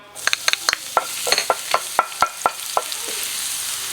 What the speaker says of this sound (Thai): ตอนนี้ก็ใช้ไฟอ่อนนะครับผัดให้เขาหอมก่อนเลย